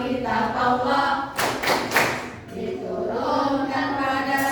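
A classroom of students claps the rhythmic 'tepuk cinta Al-Quran' clap chant, brisk hand claps under steady sung voices throughout, close and fairly loud.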